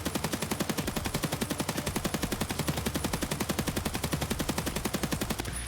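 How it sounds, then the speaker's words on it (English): Rapid, evenly spaced gunshots from an AK rifle fitted with a top-mounted tactical laser, a steady fast string of loud cracks lasting several seconds. "we're going to be using a tac laser mounted on top of the AK here to shoot"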